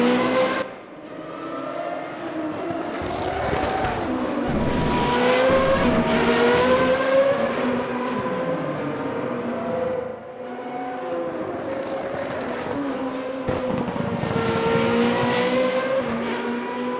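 Race cars from a sim racing game lapping during qualifying, a loud continuous engine drone with rising and falling revs and several cars overlapping, steady throughout with no talking.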